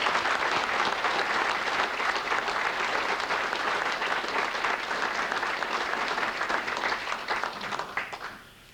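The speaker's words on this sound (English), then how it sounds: "give him a big round of applause" Sustained applause from an audience at a 1989 sports awards ceremony in Limerick, a thick continuous wash of clapping that holds steady and then tapers off at the end.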